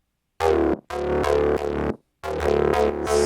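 A dry Serum synth patch remaking a track, with no effects processing, plays three loud sustained stabs separated by short silences, the last fading into hiss.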